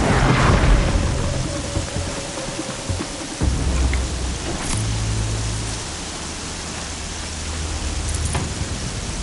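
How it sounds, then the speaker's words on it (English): Heavy rain in a video game hisses continuously as a dense wash of noise, with a low rumble rising and falling beneath it. "Rain's too loud to hear much."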